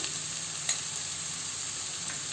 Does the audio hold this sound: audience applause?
no